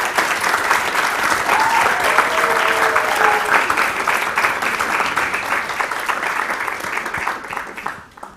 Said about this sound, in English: Yeah, we can give a round of applause.